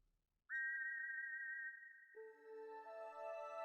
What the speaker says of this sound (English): You put the shiny silver whistle to your lips and forcefully blow into it, producing a loud tweet.